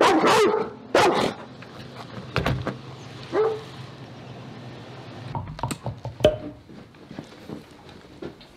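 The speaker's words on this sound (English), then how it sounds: "Now you'll notice that he is barking." A German Shepherd close by lets out several loud, sharp barks, then yips now and then over a steady mechanical hum, like a car window motor, with no one talking.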